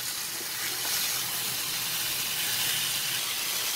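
Tandoori chicken searing in a hot pan over medium-high heat gives a constant, even hiss and sizzle, fairly faint and unchanging, with no voices.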